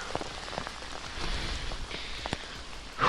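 Heavy rain pouring down outdoors in France, a dense, steady patter of drops on surfaces with occasional louder splashes, heard alone.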